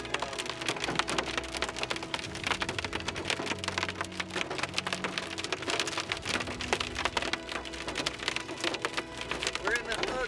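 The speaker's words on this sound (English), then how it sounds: "we had to drive through some hail to keep up with the storm" Hail hammers a car during a storm chase, a dense, continuous clatter of hard hits on the roof and glass, loud and close, with a low engine rumble underneath.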